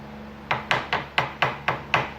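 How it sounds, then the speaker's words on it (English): A hammer taps a part into place on a 2009 Yamaha Grizzly 700 ATV, eight sharp, evenly spaced metallic knocks close to the microphone, each ringing briefly before the next. "Tap it down with the hammer to get it in there to be able to close it up"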